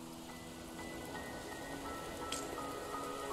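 Steady, soft rain falling in a Wuthering Waves game cutscene, a continuous quiet patter with faint drips and no voices.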